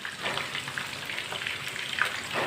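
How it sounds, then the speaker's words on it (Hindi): Chicken frying in oil in a pan over medium heat, giving a steady, close crackling sizzle with dense spatter throughout and no voices. "अब चिकन को ना 3 मिनट के लिए फ्राई होने देते हैं।"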